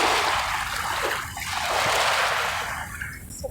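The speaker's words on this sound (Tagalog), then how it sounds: "Yan, ang ganda ng dagat." Sea water splashes and washes at Dolomite Beach, with a steady close wash of breaking water and hiss that swells and eases slightly, fading a little toward the end.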